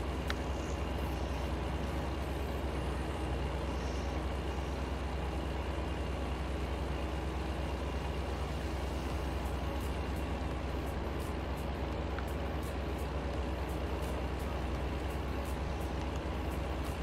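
A steady, low truck engine drone in the video game American Truck Simulator hums continuously at a constant level, with no talking and no change in pace.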